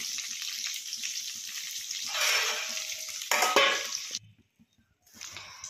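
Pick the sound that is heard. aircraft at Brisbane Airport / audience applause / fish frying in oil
fish frying in oil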